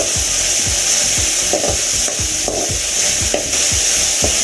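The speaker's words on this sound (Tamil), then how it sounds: "கேஸை ஹை ஃப்ளேமில் வச்சு வதக்குங்க" Tomato and onion sautéing over a high gas flame, a continuous bright sizzle with regular rhythmic scrapes of a spoon stirring through the pan, close and loud.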